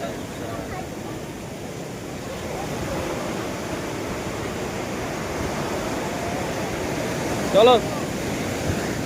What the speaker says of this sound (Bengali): জলের সামনে দেখো ঢেউ